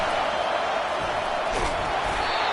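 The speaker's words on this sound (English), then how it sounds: "this crowd is turning it up a notch" Crowd noise fills a college football stadium during a Georgia vs Oklahoma game, a steady distant roar that swells slightly, with no clear voices on top.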